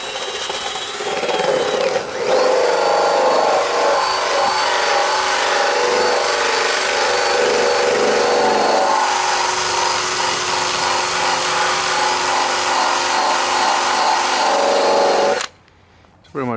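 A power tool grinds paint off a Chevy squarebody truck down to bare metal, a loud, continuous abrasive whine that runs steadily and then cuts off abruptly near the end.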